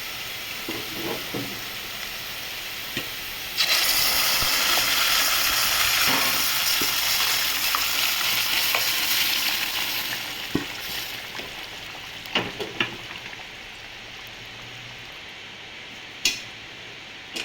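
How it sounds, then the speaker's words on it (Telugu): A tempering of spices fries in a pan just before dal is added. It crackles in a loud, steady sizzle for several seconds, with scattered stirring clicks, then quiets. "కొంచెంసేపు వేగనిస్తాం. తాలింపు అయితే వేగిందండి."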